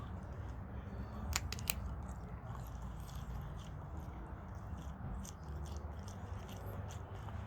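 A dried California Anaheim chile chewed close to the mouth, giving a few faint, brief crunches early on over a steady, noisy background, with no talking.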